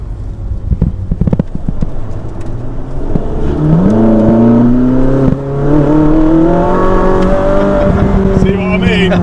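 A Fiat Abarth sports car engine revs up, its pitch climbing steadily and holding loud and close, with a few sharp knocks early on before the revving builds.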